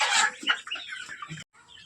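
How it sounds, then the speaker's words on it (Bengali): Chickens on a 500-bird poultry farm cluck and squawk nearby, a short burst of overlapping bird calls fading briefly to near silence, with no talk. "আমার ফার্মে 500 মুরগি আছে"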